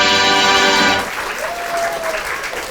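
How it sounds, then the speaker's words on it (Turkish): An audience at a school drama contest breaks into applause, a dense wash of clapping that starts over a fading musical chord and then continues on its own, loud and fairly close. "Alkışlıyoruz kocaman."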